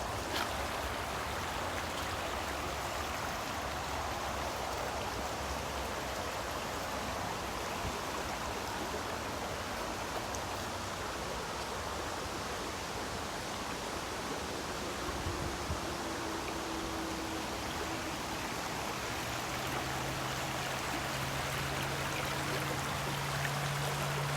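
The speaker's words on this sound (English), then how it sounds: "You got the river. It follows it for quite a ways." A river runs beside a wooded hiking trail at Leadmine Brook Preserve in Harwinton, Connecticut, giving a steady, unbroken rush of flowing water that stays even throughout with no voices.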